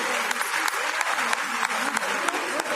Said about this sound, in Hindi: सभी बहनें तालियां बजाकर धन्यवाद करें।